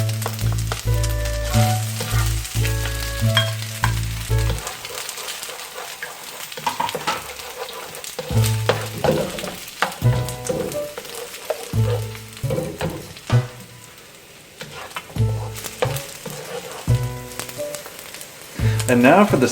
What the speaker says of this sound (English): We're going to add the eggs to the dish.